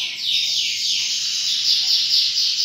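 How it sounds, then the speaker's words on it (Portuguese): A small bird sings with bright, rapid chirps and trills, close and fairly loud, over a quiet room during a crochet tutorial, with a faint voice in the background. "não repara não, porque esse passarinho tão alegre hoje"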